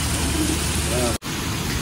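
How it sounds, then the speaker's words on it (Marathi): Heavy monsoon rain pouring down at Akkalkot near a Ganesh temple pilgrims' shelter, a dense, loud, steady hiss close by, with faint voices in the background and a brief dropout partway through. "पाऊस इतका आहे ना काय सांगू नाही शकत."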